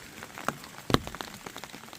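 Rain falls on a mountain hike near a pond, scattered drops tapping on surfaces with a couple of sharper close hits over a quiet wet background.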